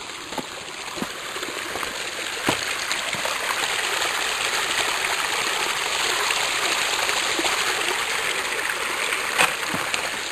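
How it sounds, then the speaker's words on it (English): A brook running at the end of summer, a steady close wash of flowing water with light splashes, continuous for the whole stretch, with no talk. "Oh, the brook's running."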